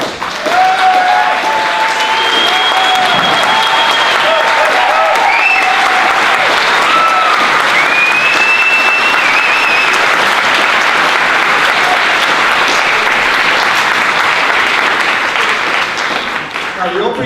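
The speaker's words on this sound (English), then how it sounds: "soak up a well-deserved round of applause" Sustained, loud applause from a large film festival opening-night audience, steady clapping throughout with occasional cheers or whistles rising above it.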